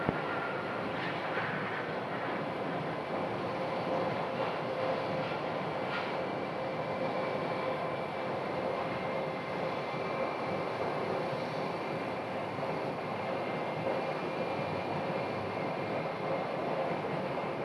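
A steady, loud jet-engine roar from an airliner taxiing out at Phoenix Sky Harbor airport, droning without a break and heard alone.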